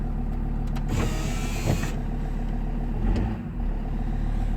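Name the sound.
Land Rover Discovery 2 TD5 diesel engine cold start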